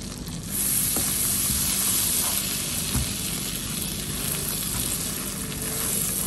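Flour fries in melted butter in a pan for a white sauce, giving a steady close sizzle with soft stirring, even and without talk.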